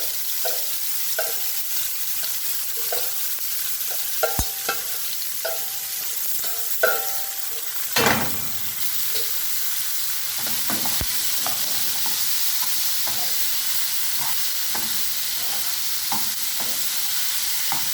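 Brinjal stir-frying in a pan with popped mustard seeds, a continuous close sizzle with repeated scraping stirs and occasional sharp clicks of a spoon against the pan, no voices.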